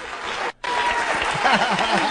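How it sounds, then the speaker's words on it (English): Studio audience on a radio talk show breaks into steady, dense applause after a brief cut, clapping continuing loudly throughout. "And he gets an applause break for that."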